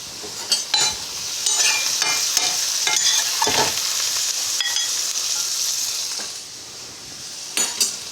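Mushrooms sizzle and fry in a pan, with a utensil stirring and scraping them in steady, close bursts over a constant hiss.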